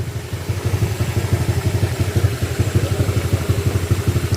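A Honda ADV160 scooter fitted with an aftermarket pipe idles close by, its engine ticking over in a quick, steady, throbbing pulse without any talk.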